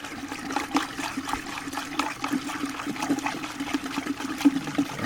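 Epsom salt fertilizer mix swirling in a container of water, a steady trickling, sloshing wash of liquid with soft repeated splashes close by, no talking.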